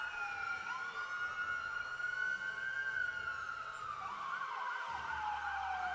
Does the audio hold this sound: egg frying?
no